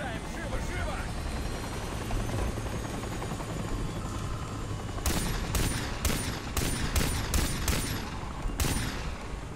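Video game gunfire in Far Cry 3 from a helicopter: several sharp bursts of shots in a rapid, irregular series over a constant loud rotor drone, with voices in the background.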